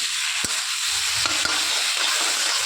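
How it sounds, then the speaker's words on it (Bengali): Roasted cumin and coriander powder is stirred into a pan of frying ghonta shukto, giving a continuous loud sizzle broken by a few sharp spoon scrapes and taps against the pan. "সেটা দিয়ে ভালো করে মিক্স করে নিচ্ছি নেড়ে চেড়ে"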